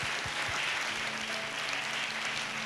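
A congregation claps hands during a fasting prayer session, a dense, steady wash of applause from many people across the room, with a low sustained tone running beneath it.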